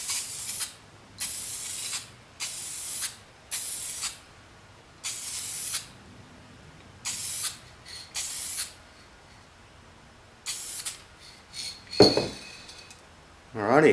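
Spray-can paint applied to a drawbar hammer with a laminated timber handle comes as about ten short, sharp hissing bursts in a loose rhythm, followed by a brief clatter near the end.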